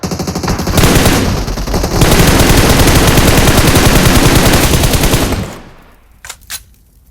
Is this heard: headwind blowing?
no